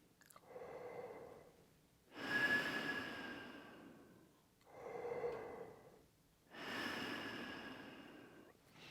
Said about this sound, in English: we're going to breathe through the corners of the mouth here around the mouthpiece